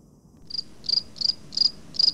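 Crickets chirping as a sound effect, five evenly spaced high trilling bursts, clear and fairly close against a quiet background.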